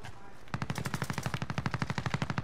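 Rapid assault rifle fire in a shooter video game, a brief hush and then a fast, even burst of around twenty sharp cracks that carries on to the end, close and loud.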